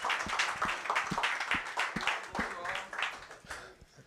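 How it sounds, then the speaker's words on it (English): Applause from an audience at a Veterans Day event, brisk scattered clapping that fades toward the end, with speech mixed in. "So everybody, warm round of applause for Michael."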